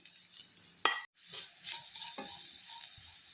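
Sliced onions, ridge gourd and other vegetables sizzling in a pan for Kerala-style mezhukkupuratti, a quiet hiss with a few scraping stirs and a brief drop-out partway through.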